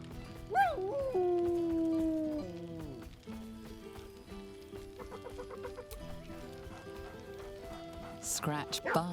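A dog in the video game Baldur's Gate 3 barks merrily, giving short yipping barks near the start and again at the end over a busy bed of game sounds.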